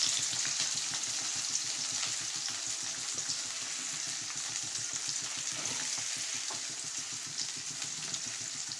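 Potatoes, peas and carrots frying for chowmein, a dense, steady sizzle close by with soft rhythmic stirring underneath, constant throughout and free of speech.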